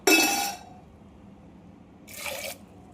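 Water poured onto soaked dal in a pot for boiling, two short splashing pours separated by a quiet gap, close and clear with no talk.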